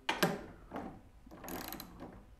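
Inch-long lag bolts are driven into a wooden rolling cabinet base fitted with wheels, giving a few short ratcheting clicks and creaks in separate bursts, close and fairly quiet.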